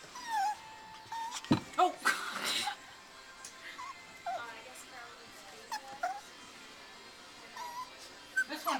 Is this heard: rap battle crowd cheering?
no